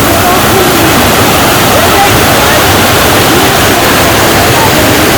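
A wide waterfall at Raikhong in Bangladesh roars in a steady, dense rush of falling water, loud and continuous throughout with no breaks.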